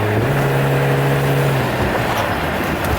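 A 1992 Mercedes-Benz 300E W124 drives along with a steady engine drone that holds a tone, then drops as it downshifts, with road noise continuing underneath and no talking.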